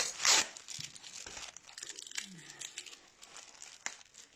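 A calendar package is unwrapped by hand, its plastic wrapper crinkling and tearing in quick, close bursts, loudest at the start, then softer scattered rustles.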